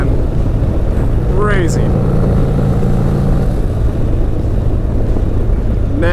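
A Trask turbo Harley-Davidson Street Glide with a 131ci Stage 4 engine gives a loud, steady engine and wind roar while riding on the highway, with someone talking briefly over it.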